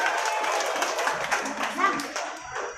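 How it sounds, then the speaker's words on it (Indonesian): Audience clapping for award winners at a pesantren Qur'an recitation ceremony, a steady patter of hands from a moderate crowd lasting a few seconds, with a voice faintly mixed in. "Tepuk tangan Bapak Ibu untuk yang terbaik 1."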